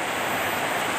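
A small river flowing near an outdoor dining hut in a garden, a loud, close, continuous rushing wash of water with no voices.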